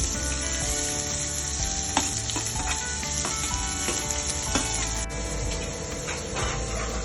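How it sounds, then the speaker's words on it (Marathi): Chopped onion sautéing in a pan for Maharashtrian zunka, a steady close sizzle with faint scrapes and stirring clicks running throughout, no voices. "कांदा परतून घेऊया।"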